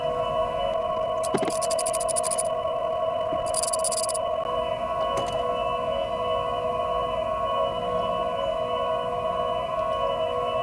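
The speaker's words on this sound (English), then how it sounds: "but it's still making that weird hybrid sound" A Nissan LEAF electric car with its battery disconnected emits a steady electronic whine, layered sustained tones holding throughout with a few brief bright high-pitched bursts near the start, close and continuous, no talking.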